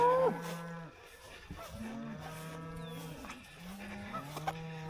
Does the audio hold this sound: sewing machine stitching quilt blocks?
no